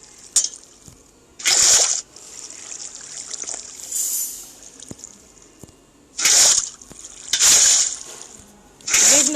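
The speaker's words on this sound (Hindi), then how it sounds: "अब भाई मुझे यहाँ से भी वापस से पानी भरना होगा" Water being filled in a Minecraft survival game, heard as short bursts of bright trickling and pouring, three to four separate splashes spaced over several seconds with quieter game ambience between them.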